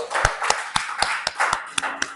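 A congregation claps in steady rhythm during a worship service, sharp hand claps about every quarter second, close and fairly loud over a soft wash of room noise.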